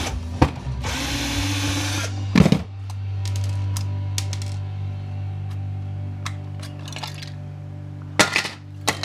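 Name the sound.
power drill drilling while scrapping a battery charger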